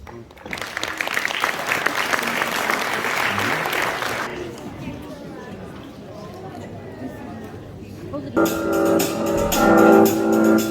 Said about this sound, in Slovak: účinkujúcich privítajte spolu srdečným potleskom